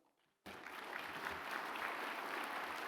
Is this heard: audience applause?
yes